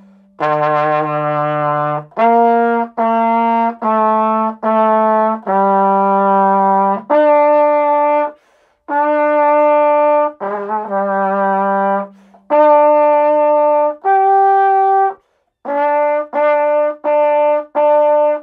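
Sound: French horn playing song from book 1 line 120

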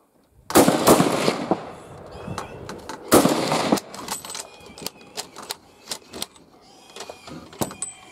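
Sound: gunshots fired at hogs

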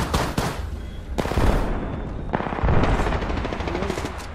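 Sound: gunfire in the video game Apex Legends

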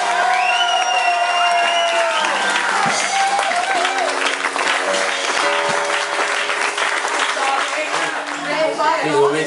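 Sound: audience applause and cheering

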